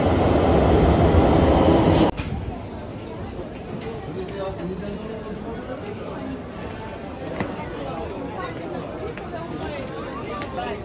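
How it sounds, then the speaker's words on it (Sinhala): A Milan metro train roars loudly for a couple of seconds, then settles into a quieter rolling hum with clanks and faint wheel squeals while people chatter nearby. "මිලාන් සෙන්ට්‍රල් ස්ටේෂන් එකෙන් බහලා දැන් මෙට්‍රෝ ගන්න තමයි ඇවිදින්නේ"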